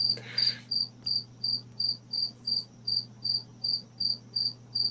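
Cricket chirping close and clear, about thirteen even pulsed trills in a steady rhythm over a faint low hum, with no talk.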